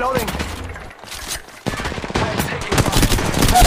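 Loud bursts of automatic gunfire in the battle royale game Apex Legends Mobile, rattling in quick volleys after a short lull, growing denser and closer, with a voice calling out in between.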